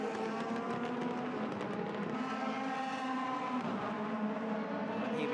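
A Mercedes DTM race car at the Moscow circuit drives past with a loud, steady engine howl of layered harmonics that holds for several seconds and shifts gently in pitch.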